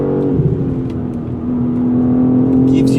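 A BMW M3 CS on the move, a steady engine drone and tonal whine heard from inside the cabin with road noise underneath, rising slightly toward the end.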